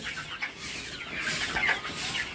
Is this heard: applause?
no